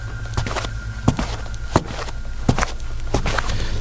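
Footsteps thud into a room one after another in an Indonesian horror audio drama, several distinct soft impacts spaced about a second apart over a low steady hum, with no talking.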